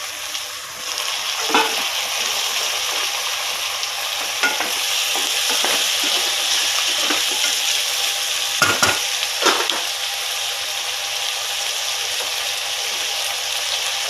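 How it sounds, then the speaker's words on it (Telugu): Curry of drumsticks and tomato frying in a pan, a steady close sizzle throughout with occasional stirring scrapes and clatters, no talk. "కొద్దిగా వేగనిద్దామండి కొద్దిగా వేగే కదండి ఇప్పుడు ములక్కాళ్ళు కూడా వేసేద్దాం"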